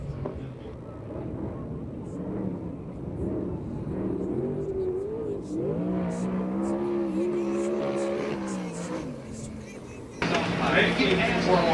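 Sprint cars on the USAC/CRA circuit at the Perris oval in California roar around the track, a steady engine drone that rises and falls in pitch, with a public-address announcer talking over it and a louder surge near the end.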